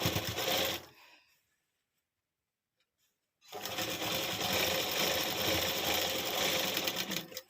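A sewing machine stitches piping onto the edge of a ready-made blouse, a short burst of fast stitching, a silent pause, then a longer steady run of rapid close mechanical chatter.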